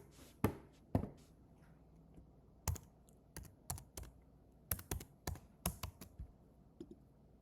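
A password being typed on a computer keyboard: quiet, irregular key clicks in short bursts, close and alone in an otherwise silent room.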